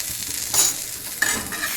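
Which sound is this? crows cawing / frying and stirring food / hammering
frying and stirring food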